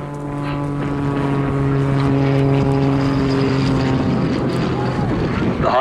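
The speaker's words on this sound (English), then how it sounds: "The Tutor is capable of sustained inverted flight, which Ski will now demonstrate on this inve" A Grob Tutor T1 propeller trainer flying inverted at an airshow gives a steady droning engine hum with a strong tonal whine, fading and shifting in pitch as it passes.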